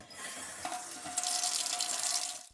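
A household faucet runs in a home in Westwater near Blanding, San Juan County, as a steady close gush of water into a sink that grows louder and fuller partway through, with no talking.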